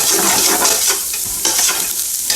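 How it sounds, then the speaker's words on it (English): Onions and other vegetables sizzle and fry in olive oil in a pan while being stirred, giving loud, close crackling with scraping bursts as the spoon moves through them. "cook this until the onions go translucent. Keep stirring."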